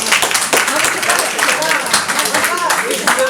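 Applause from an audience at a public information meeting in Florange about the A31bis motorway project: a dense, steady patter of many hands clapping throughout, with voices mixed in underneath.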